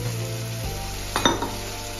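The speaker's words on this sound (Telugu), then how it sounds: "ఇప్పుడు చిలికి పెట్టుకున్న పెరుగు వేసేసి" Whisked curd going into a hot pan and being stirred, a steady loud sizzle and hum with a brief swell of bubbling and a couple of soft utensil scrapes, no voices.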